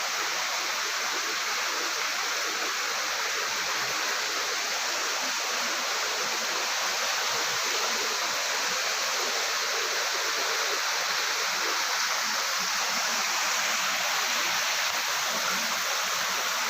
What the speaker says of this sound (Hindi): झरना भी शानदार लग रहा है।